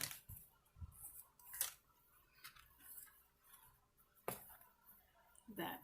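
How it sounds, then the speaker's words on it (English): Scissors snip paper for a botanical journal, several quiet, separate crisp cuts spaced irregularly over a faint background. "the top and bottom I'm going to trim with my scissors"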